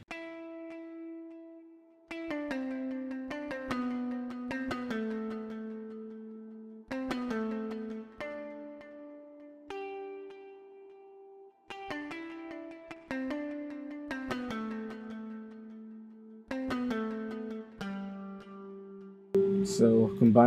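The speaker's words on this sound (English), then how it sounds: "Then the electric guitar sounds like this." Clean electric guitar part from an R&B-style type beat, picking melodic single-note lines and chords in a steady pattern over roughly twenty seconds, moderately loud and alone with no voice.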